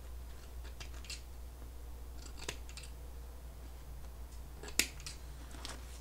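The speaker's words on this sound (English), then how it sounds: "I'm just cutting the thread" Scissors snip embroidery thread on a hoodie: a few faint, close clicks scattered across a quiet room, with one sharper cut standing out near the end.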